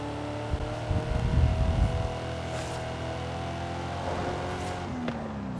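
A car's stock-exhaust engine in Forza Horizon 5 hums and drones at a steady pitch, briefly revving louder near the start before settling into a quieter, even tone.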